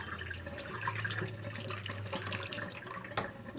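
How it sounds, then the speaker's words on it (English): Water is strained off a bowl of soaked wheat kernels, a soft steady trickle and splash with a low hum underneath, fairly quiet and close. "We're going to strain that water off."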